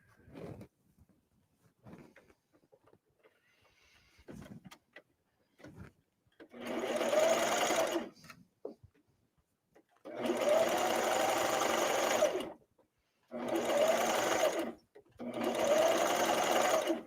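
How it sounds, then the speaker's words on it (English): A serger runs in four fast, steady bursts of one to two seconds as it stitches binding on a tank top, separated by near-silent pauses with faint handling clicks. "I am going to stitch to the end and then just add the next piece"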